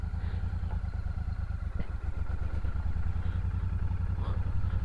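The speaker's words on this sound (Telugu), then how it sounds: "క్లచ్ రిలీజ్ చేస్తున్నాను, క్లచ్ కొద్దిగా స్టిఫ్గానే ఉంది, అలవాటు అవ్వాలి. థ్రాటిల్ ఏమి ఇవ్వట్లేదు" A Royal Enfield Shotgun 650 motorcycle rolling along with the clutch released and no throttle applied, its engine running at a steady low-pitched, pulsing idle-like beat that stays close and loud.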